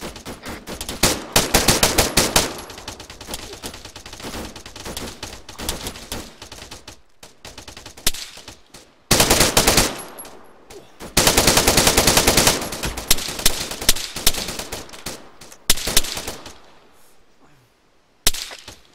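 Bursts of automatic gunfire rip through a multiplayer shooter firefight, loud rapid volleys in clusters with short gaps, some nearby and some further off, no talk over them.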